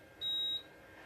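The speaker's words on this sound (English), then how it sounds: "So it's going to beep and say we're done." A heat press signals the end of pressing a shirt with one short, high electronic beep lasting under half a second against quiet room background.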